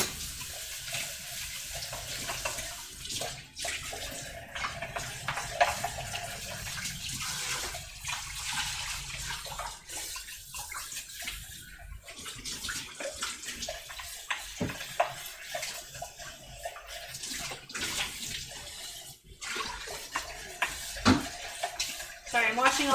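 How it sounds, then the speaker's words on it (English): Hot water runs from a kitchen tap into a heavy cream container being rinsed out, a steady splashing stream with clunks of the container, while someone talks over it. "I'm washing all the heavy cream out of this container"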